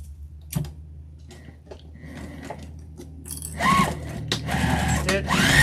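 A sewing machine stitching a tote bag for a beginner sews in with a loud, steady mechanical whir after a few sparse clicks and handling knocks at the start, running on to the end.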